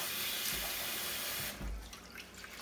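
Cold tap water runs steadily into a sink as basmati rice is rinsed, a continuous close hiss that shifts partway through to a lighter splashing pour with small drips.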